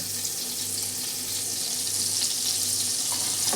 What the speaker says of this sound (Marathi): बटर टाकते. बटर चांगलं हलवून घ्यायचं.